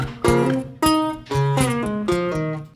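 An RnB guitar interlude part plays a few plucked note phrases with pull-offs and sustained ringing tones, close and clear, with no voice.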